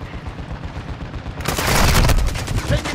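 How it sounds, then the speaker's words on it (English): Dense automatic gunfire in Call of Duty: Modern Warfare II erupts loudly about halfway through, rapid repeated cracks over a rumbling battlefield bed that follows a quieter stretch. "Taking effective fire."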